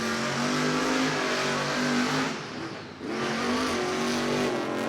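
Rage, a monster truck, races at a 2021 Monster Jam event in Camping World Stadium, Orlando, with a loud, continuous engine roar and rising revs that dip briefly midway before surging again.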